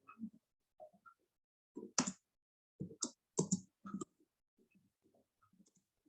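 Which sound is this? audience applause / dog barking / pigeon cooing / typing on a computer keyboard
typing on a computer keyboard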